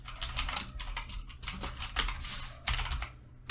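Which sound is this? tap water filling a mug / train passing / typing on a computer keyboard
typing on a computer keyboard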